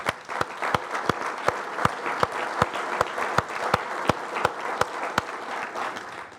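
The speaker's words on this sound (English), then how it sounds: "I think that's worth a round of applause." An audience at a regional economic forum gives a round of applause, steady dense clapping with sharp individual claps standing out, sustained and fairly close.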